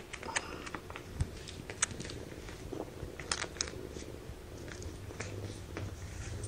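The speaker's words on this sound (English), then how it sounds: "Okay, listen to the purrs" Soft, steady purring from small kittens, close by and quiet, with occasional light clicks and shuffling sounds.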